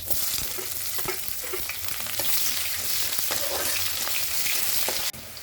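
Cumin seeds and chopped onions frying in hot oil for a taro root and fish curry, a loud, dense, steady sizzle throughout with scattered crackles and light pan scrapes, no voices.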